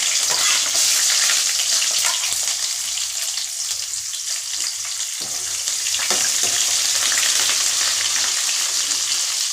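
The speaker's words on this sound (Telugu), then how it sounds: "కొద్దిగా వేగనిద్దామండి" Snake gourd pieces frying in a pan for a milk curry, loud continuous hissing sizzle that dips briefly then swells again, with faint stirring touches and no speech.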